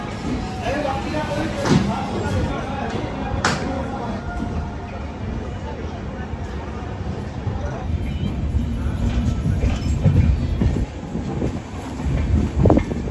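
A train arriving at Kishanganj station on the Kolkata to Darjeeling route rumbles and clatters steadily with wind noise and faint voices, a rolling, continuous mechanical din without a clear stop.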